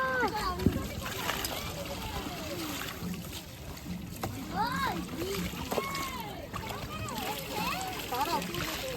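Water splashes and trickles in bursts as people bathe in the cold Ganges on Maghi Purnima. Voices of adults and someone talk and exclaim over the splashing throughout.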